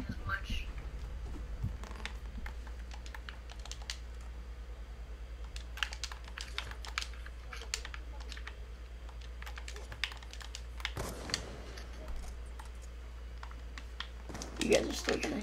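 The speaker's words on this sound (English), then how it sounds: "Just so you don't hear the button clicking as much." Computer keyboard keys clack and tap in steady bursts throughout while playing a game, close by and fairly quiet, with a low hum underneath and a louder flurry of clicks near the end.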